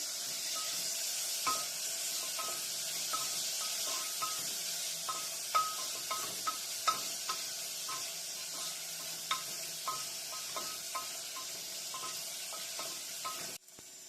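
Onions with salt sauté in a pan for a Kerala-style veg kurma, a gentle hiss running throughout as a spoon taps and scrapes at irregular intervals. The sound cuts off abruptly near the end.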